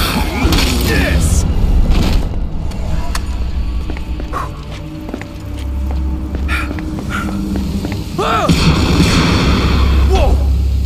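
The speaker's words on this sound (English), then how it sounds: "What the hell was that? It sounded like an explosion." A heavy blast booms out in the zombie game Dead Rising 3, with deep rumbling low end and scattered crashes and pops across roughly eleven seconds, loud and close, under occasional voices.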